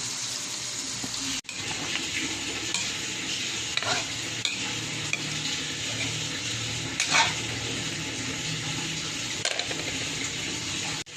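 Chicken pieces with a little soy sauce sizzle in a pan with tomatoes for chicken afritada, a constant hiss of frying broken by repeated scraping and stirring strokes, close and loud with no talking.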